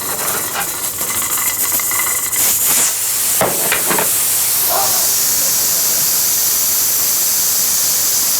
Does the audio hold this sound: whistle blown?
no